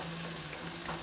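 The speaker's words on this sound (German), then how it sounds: "Und dann brutzeln wir jetzt mal so ein bisschen an." Onions fry in a pan for a vegetarian potato goulash, a quiet, steady soft sizzle with faint crackle, heard alone without talk.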